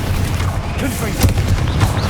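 Fire-spell explosion cast in the Hogwarts Legacy video game: a sharp boom bursts out about halfway through, with further softer blasts over a steady game background and a voice talking.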